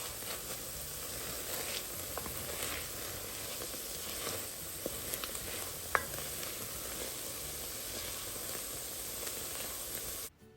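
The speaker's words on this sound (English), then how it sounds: "Make sure you saute these things, it brings out the flavor even more" Vegetables sautéing in a pan for flavoured rice give a steady, close sizzle and hiss, with a few faint scrapes and taps of stirring scattered through and no talking.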